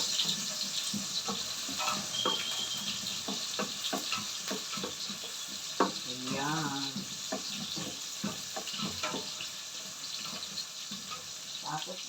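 Garlic, onion and ginger sizzling in a pan in a home kitchen, a continuous moderate hiss with scattered clicks and utensil taps, and a voice briefly speaking partway through.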